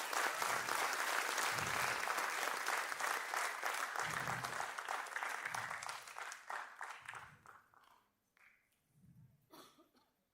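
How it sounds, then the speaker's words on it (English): Audience applause for the Chief Minister of Sikkim at a foundation day celebration, a dense sustained clapping that thins and fades out after about eight seconds, with scattered coughs near the end. "So a big round of applause for the Honorable CM of Sikkim."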